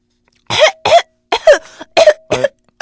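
Five harsh, forceful coughs in quick succession, close and loud, with brief pauses between them.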